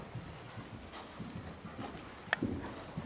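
A horse's hooves clip-clop across a riding arena, soft regular thuds at a relaxed gait, fairly close and moderately quiet, with no talking.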